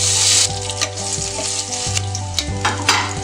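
Dried red chillies frying in hot coconut oil with popped mustard seeds for green gram thoran: a steady close sizzle with crackling pops, under a soft musical backing.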